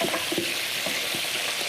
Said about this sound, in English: let me let the bacon cook just a minute more here